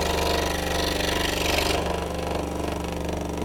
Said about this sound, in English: The blade sort of oscillates forwards and backwards a little bit as you're cutting.